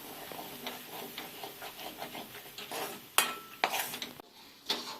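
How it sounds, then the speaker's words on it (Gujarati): Grated paneer is stirred into spinach halwa in a pan: steady scraping and rubbing strokes of a spoon, followed by a few sharper clanks against the pan near the end, close and without speech. "લાસ્ટમાં આપણે એમાં પનીર એડ કરવાનું છે છીણેલું પનીર હવે બધું એકદમ ફાઇન મિક્સ કરી દેશું"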